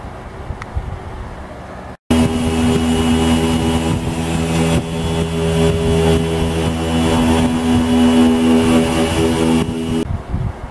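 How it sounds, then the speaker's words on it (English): A polisher buffs a carbon fiber car hood with a loud, steady motor whine and drone that starts abruptly and holds close and constant, then eases off near the end. "now we're polishing it down so I can start making a mold for it"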